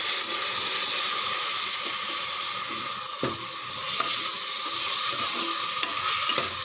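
Soaked toor dal and moong dal sauté in a hot pan with a steady, close sizzle, and a few scrapes and knocks of a spatula break the hiss.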